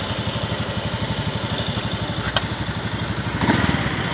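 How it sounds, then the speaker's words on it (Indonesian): A Honda Beat FI scooter with a sputtering fault idles close by at about 1400 rpm, a steady low pulsing putter with even rhythm, broken by a couple of brief metallic clicks. "Ya, ini udah hidup motornya."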